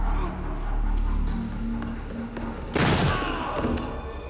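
A single loud gunshot blast in Assassin's Creed 3, a sharp broadband crack that rings out briefly over low game ambience and a steady hum.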